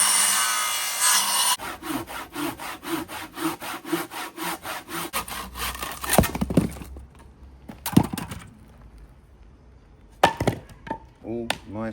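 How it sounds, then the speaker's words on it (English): Rhythmic back-and-forth strokes of a handsaw finishing a cut through a wooden pergola beam, close and rasping, ending with scattered knocks and scrapes of wood. "then just use a handsaw and just finish it off."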